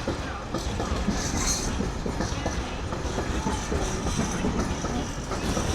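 At Doncaster station on the East Coast Main Line, a train rolls past with a continuous rumble and rhythmic clickety-clack of wheels over rail joints, steady and fairly close throughout.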